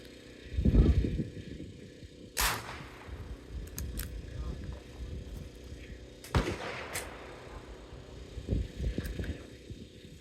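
An antique .22 Short single-shot pistol fired at a shooting range: a few sharp but fairly light reports, spaced several seconds apart, each with a short ringing tail, amid background hum and a voice talking.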